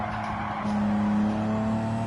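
A GTO twin turbo racing around the Tokyo circuit in Gran Turismo 7, its engine note dipping under braking and then swelling back as the throttle opens, with a faint tire squeal over a steady, close drone.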